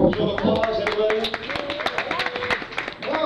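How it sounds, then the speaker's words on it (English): An audience at a comedy club show claps and cheers in a brief, lively burst, with voices mixed into the applause. "Show of applause, everybody."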